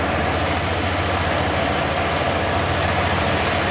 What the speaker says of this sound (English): the blower motor's working good